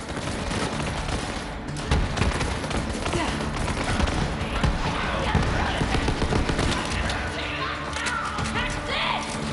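Dense, continuous shotgun fire from a Hyperion shotgun in Borderlands 3 booms close and loud, layered with chaotic battle noise and speech throughout.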